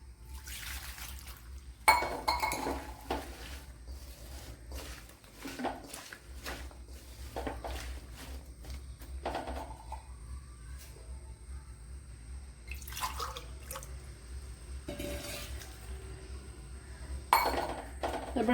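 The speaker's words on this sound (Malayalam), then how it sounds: "ഇനി ഇതിന് വേഗിന് ആവശ്യമായ വെള്ളം ഒഴിച്ചു കൊടുക്കുക." Water is poured over chopped vegetables in a pot for Kerala aviyal, with close, quiet splashes and drips broken by clinks of utensils against the pan.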